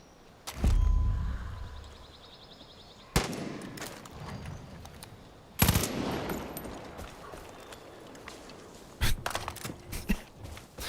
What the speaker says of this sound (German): Knall diese Geier ab.